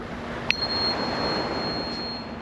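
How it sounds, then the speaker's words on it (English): A tuning fork is struck outdoors by ocean waves, giving a small sharp ping followed by a thin, steady high tone that rings faintly over the constant rush of surf. "what is changing the resonance of this tuning fork when I come in close to this crystal"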